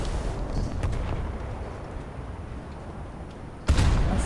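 Heavy booming naval gunfire from warships in a video game: a few muffled blasts early over a low rumble, then a sudden loud cannon shot near the end.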